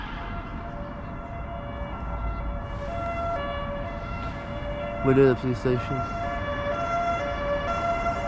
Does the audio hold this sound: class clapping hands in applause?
no